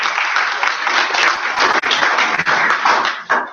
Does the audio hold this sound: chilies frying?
no